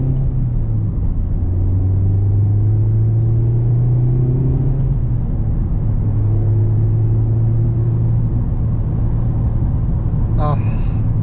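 A sports car on a test drive, heard from inside as a low, steady engine drone that rises in pitch as it accelerates through the gears. A short chirp near the end breaks the hum.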